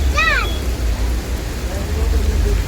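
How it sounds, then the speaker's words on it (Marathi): Heavy monsoon rain with traffic on a city street, a dense steady hiss of rainfall with a vehicle horn blaring briefly near the start and faint traffic rumble beneath. "जोरदार पाऊस आणि त्याच्यामध्ये ट्रॅफिक"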